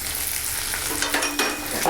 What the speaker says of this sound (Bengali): ভাজা হয়ে গেছে, আমি রসুনটা দিচ্ছি।